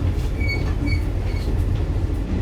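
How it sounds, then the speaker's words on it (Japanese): A Japanese sightseeing train pulls away slowly, its steady low rumble and rolling wheel noise filling the clip with faint high squeals and clicks over the rails, heard from inside the car with no talk. "普通の電車に比べたらこの出発する時も本当にゆっくりと進んでる感じがしますね、観光列車は"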